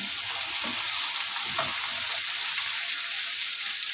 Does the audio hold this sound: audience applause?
no